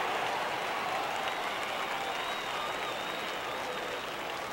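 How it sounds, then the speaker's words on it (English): A stadium crowd at Yankee Stadium cheers and applauds steadily in the MLB 15 The Show baseball video game, with broad, dense noise that holds at an even level throughout. "Crowd on his feet here at Yankee Stadium"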